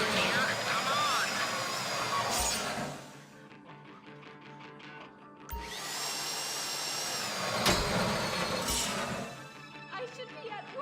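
A drill bores into a safety deposit box during a heist in GTA V, a loud whining grind that surges, drops away and surges again in two long bursts, with people talking over it.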